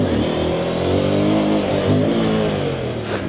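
An Aprilia RS457 sport motorcycle revs hard during wheelies, a loud, sustained, close engine roar with slight pitch swings as the throttle is held open.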